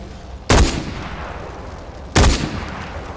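Two loud, sharp gunshots from the video game Far Cry 4, spaced well apart, each followed by a brief fading tail over a low background hum.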